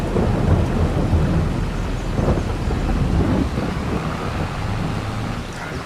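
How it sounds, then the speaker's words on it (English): Rain and rumbling thunder on a Missouri farm in Farming Simulator 22, a heavy low roll of thunder over a steady wash of rainfall, loud and continuous without talk. "I honestly thought the rain was going to have stopped by now."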